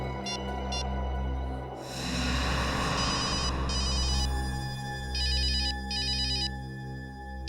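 A phone rings with repeated electronic trilling bursts over a steady low rumble and background noise.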